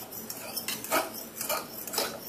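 A three-year-old stirs food in a bowl with a fork, producing a steady series of close metallic clinks and scrapes against the bowl, several rhythmic strokes in a quiet room.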